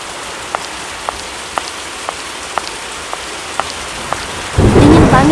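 Rain falling steadily with a series of regular sharp drip-like ticks, then a sudden loud burst of thunder and heavier downpour near the end.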